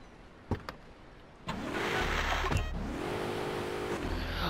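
A car in the video game Grand Theft Auto: Vice City revs up after a few sharp clicks, then holds a loud, steady engine drone with rising and falling pitch sweeps.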